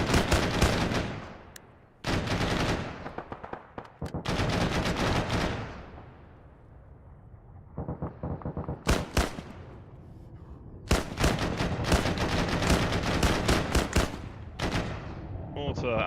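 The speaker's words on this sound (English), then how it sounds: "We got guys just past the village shooting the rooftops out." Heavy, sustained gunfire in the military game Arma as troops past a desert village shoot at rooftops, loud rolling bursts and volleys with echoing tails and brief lulls between.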